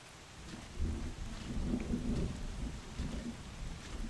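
A thunderstorm in the video game Bottle Pilgrim, with steady rain hissing on surfaces and a low rolling rumble of thunder swelling and fading, no voices.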